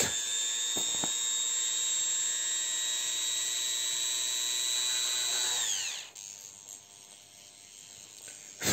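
Rotary burr grinding through a resin core with a high, steady whine that winds down and stops near the end, close and fairly loud with no voices.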